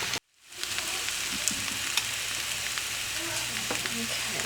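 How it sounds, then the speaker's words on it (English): A cornmeal flapjack fries in a pan with a steady, loud sizzle and crackle. The sizzle carries on without a break after a brief silent moment at the start, and scattered pops are heard with no talking. "what I'm cooking over here, it's a flapjack, like a cornmeal cake"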